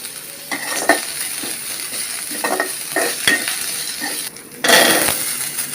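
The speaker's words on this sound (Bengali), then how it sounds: "এগুলো একটু লাল লাল করে ভেজে নিতে হবে।" Small potatoes and Malabar spinach stems fry in a pan, sizzling steadily with repeated scrapes and metallic clinks of a spoon stirring, close and fairly loud.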